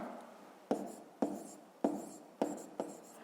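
Numbers being written by hand with a pen on paper during a fifth-grade maths exercise, five distinct close scratchy strokes spaced about half a second apart, with no speech.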